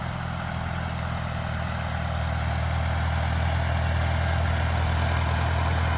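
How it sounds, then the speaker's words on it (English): A Farmall A tractor engine runs at a steady idle, a close, continuous low chugging drone with no one speaking. "Been a long time since that tractor's been in motion"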